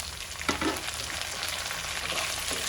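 Half-fried potatoes with thinly sliced onions and curry leaves frying in a pan for kanda poha, a loud, steady, close crackling sizzle with a brief clatter of the additions dropping in early on.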